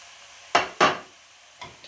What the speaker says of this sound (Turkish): Hemen ardından doğramış olduğumuz şu baklalarımızı ilave ediyorum